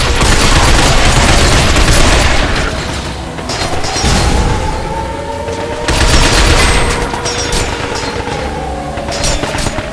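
Dense, loud gunfire in the video game Binary Domain, sustained automatic bursts and booms rolling in waves with no breaks.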